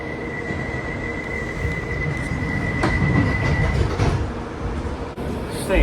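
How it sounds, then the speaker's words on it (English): A London Underground train runs on the rails, a loud, continuous rumble with a steady high wheel whine and rattling clatter that swells midway and ends with a sharp clunk, heard close up from inside the carriage. "take the Blue Line train to Queen Park."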